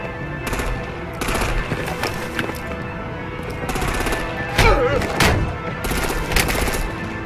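Gunfire in the Batman: The Enemy Within game comes in rapid bursts of automatic fire separated by short gaps, loud and close, with battle noise and some voice activity underneath.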